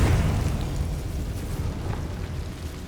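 A Confringo fire-blast spell explodes in Hogwarts Legacy, a deep booming burst that opens loud and then rolls into a sustained rumbling tail over nearly three seconds.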